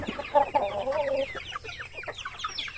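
Chickens in a backyard coop in the Philippine countryside cluck and squawk in close, overlapping bursts, a drawn-out call rising above the steady chatter of the flock.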